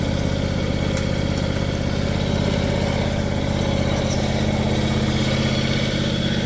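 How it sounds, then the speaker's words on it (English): Kawasaki engine of a 2016 John Deere X570 lawn tractor idles steadily and loudly at close range, a continuous even drone with no voices. "this Kawasaki still runs like it's brand new."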